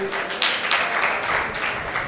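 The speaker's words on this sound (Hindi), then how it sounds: "इन सब विद्यार्थियों के लिए एक बार जोरदार तालियां बजाइए" An audience at a teaching-training camp in Lalitpur applauds students with dense, continuous clapping that forms a loud, sustained wash of sound throughout.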